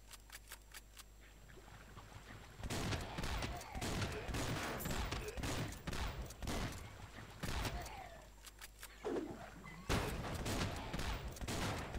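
Rapid bursts of gunfire from the swamp-defense video game Swamp Attack, with dense runs of shots broken by short pauses for a fast reload; sharp, fairly loud game effects layered over a constant hum.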